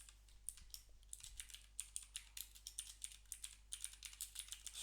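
Rapid, steady keystrokes on a computer keyboard while code is entered for a Salesforce Lightning Web Component, crisp clicks running the whole time over a low constant hum, with no one speaking.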